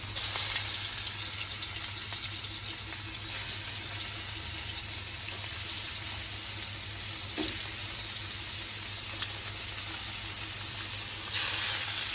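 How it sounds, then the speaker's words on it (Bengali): Rohu fish curry frying in a pan makes a steady, loud, close sizzle with a continuous hiss, broken now and then by faint stirring clicks, and no voices. "তো রুই মাছটা দিয়েই তরকারিটা রান্না করব"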